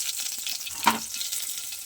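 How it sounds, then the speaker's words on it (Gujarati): Curry leaves hitting hot oil that already holds popped mustard seeds, a kadhi tempering, give a short near sizzle with a brief sharp flare partway through over a steady frying hiss. "હવે આપણે મીઠા લીમડાના પાન ઉમેરીશું"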